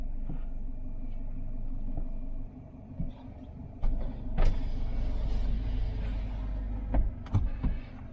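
Toyota Hilux GR-S III reversing over off-road terrain, a low steady engine rumble that dips midway, then rises again with bumps and knocks as the truck shifts and its suspension settles.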